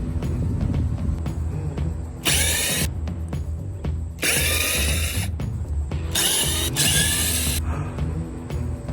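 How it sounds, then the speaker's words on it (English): A power drill whines in several loud bursts of a few seconds each, drilling out bolts on a boarded door of a vacant house, separated by pauses filled with steady mechanical background noise. "So I'm about to drill open this door."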